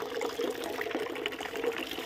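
Tap water runs steadily into a cooking pot at an outdoor village tap, a continuous close pouring and splashing rush with no talk.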